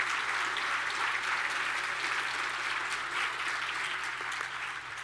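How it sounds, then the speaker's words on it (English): A seated luncheon audience at an automotive event applauds the students and their sponsors with a continuous, even wash of clapping that is soft and somewhat distant and fades a little toward the end. "How about joining me in a round of applause for the students and their sponsors?"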